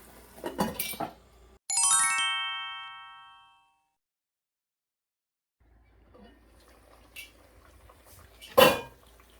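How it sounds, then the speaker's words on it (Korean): A metal pot lid clanks shut over simmering burdock root braising with carrot and syrup, one bright ringing clang that decays for about two seconds, followed by quieter clinks and a sharper knock near the end. "뚜껑 닫아서 한 5분이나 7분 정도 졸여보겠습니다"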